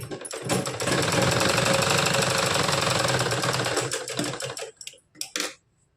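A sewing machine runs steadily, stitching a blouse along a marked line, its fast mechanical clatter loud and close for several seconds before slowing and stopping in a few short bursts.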